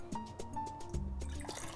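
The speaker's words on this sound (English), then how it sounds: "I'll be now dipping my damp cloth in this mixture." A damp cloth dipped into a mix of glaze and water for painting wall tiles, giving soft wet drips and small liquid splashes, faint and close, over a low background hum.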